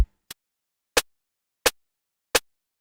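A dry snare drum sample for liquid drum and bass, struck several times at an even, steady pace, each hit a crisp bright crack that decays quickly, with no other sounds around it.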